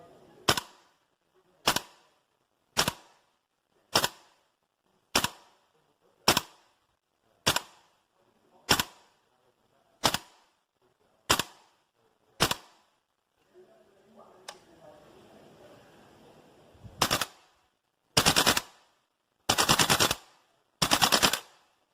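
A Tokyo Marui AKM gas blowback airsoft rifle fires 0.28 gram BBs outdoors. Sharp single shots come at a steady pace, then after a quiet pause a final burst of louder, longer reports follows.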